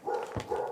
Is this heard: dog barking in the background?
yes